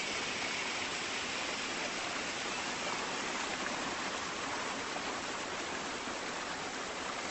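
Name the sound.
waterfall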